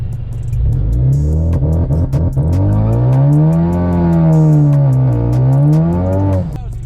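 A car launched with launch control in normal drive mode with paddle shifting, its engine loud and close, the pitch climbing hard, dipping at a gear change, then rising again before cutting off.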